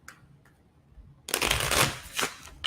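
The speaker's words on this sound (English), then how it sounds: "Why don't we pull some cards on this 2 here?" Tarot cards are shuffled close up: a quiet start gives way to a dense, papery riffling burst that swells, eases briefly, then rises again at the end.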